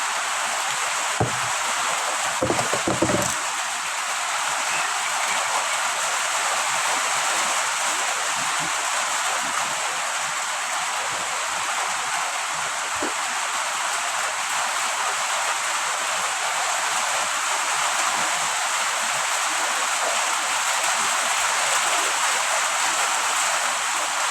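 Steady broadband rush of flowing water, likely from a tap or stream near a laundry spot, continuous and fairly loud for the whole stretch, with a few brief knocks near the start and no talk.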